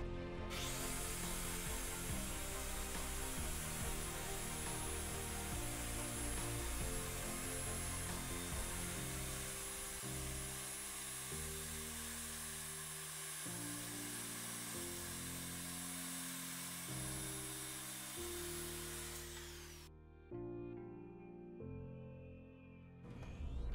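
A power tool cuts styrofoam for a tabletop gaming display board, giving a loud, close, steady high whine for about twenty seconds with a grainy, shifting rasp beneath it, then it stops, leaving faint rustling.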